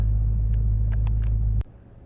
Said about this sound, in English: Car's all warmed up.